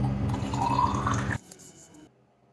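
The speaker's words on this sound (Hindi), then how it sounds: "इसलिए मैंने अपनी बॉटल से पानी निकाला और उसको गर्म कर दिया" Water is poured out of a bottle to be heated, a steady liquid splash and trickle that stops abruptly partway through, leaving faint background sounds.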